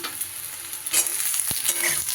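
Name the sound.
eggplant pieces frying with potato and onion in a pan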